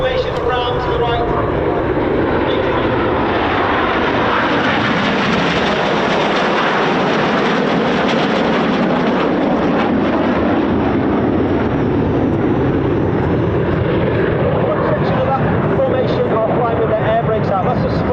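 Red Arrows jets flying a formation display at RAF Coningsby, a loud continuous roar of jet engines that swells and sweeps overhead for the whole stretch, with commentary running over it.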